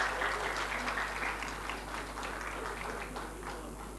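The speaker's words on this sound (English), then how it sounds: "To Professor Koirala, please welcome with big round of applause once again." Audience applause welcoming a vice chancellor at a college orientation program, a steady crowd clapping throughout at moderate distance with a faint hum underneath.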